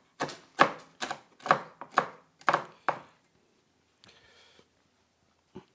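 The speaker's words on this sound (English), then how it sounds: "you can take some bacon, turn it into bacon bits" A knife chops bacon into bits on a board in about eight crisp, evenly spaced strikes, followed by a short soft scrape and one last tap, close and clear with no talking.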